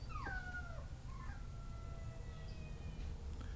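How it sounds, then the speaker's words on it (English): A couple of puppies howl faintly in the distance during an outdoor air rifle shooting session, their thin rising and falling cries coming mostly at the start over steady low background noise. "Yeah, I got a couple puppies in the background."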